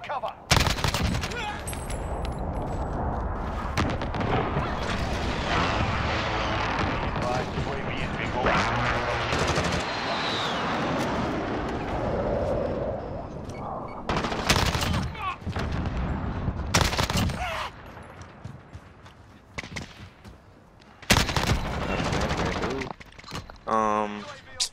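Gunfire and airstrike blasts rattle through a Call of Duty Modern Warfare match, with dense bursts of shots and heavy impacts over long stretches and someone talking over parts of it.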